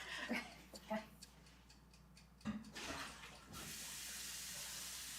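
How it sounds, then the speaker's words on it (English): Running tap water rinses a bowl coated in egg batter in a kitchen sink, first as brief splashes and clatter, then a steady, fairly close rush of water that continues to the end. "Put in sink. Rinse now."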